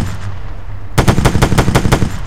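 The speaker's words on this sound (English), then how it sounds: "It's a 50 cal machine gun." A .50 cal machine gun fires in the video game Arma 3: a loud, steady burst of about ten rapid, evenly spaced shots after a second of low background hum.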